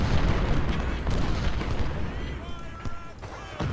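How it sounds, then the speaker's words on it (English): Civil War artillery fire in Ultimate General: Civil War rumbles as a continuous barrage of distant booms and scattered cannon reports, with a voice talking over it. "Our artillery pieces are doing some damage"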